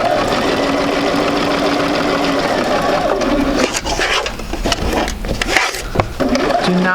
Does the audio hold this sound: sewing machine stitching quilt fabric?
yes